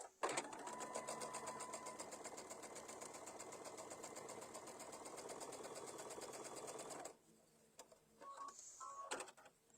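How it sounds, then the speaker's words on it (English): A sewing machine stitches a table runner piece on diagonally, running in one loud rapid continuous burst for about seven seconds, followed by fabric handling and small clicks. "and then sew that one on diagonally"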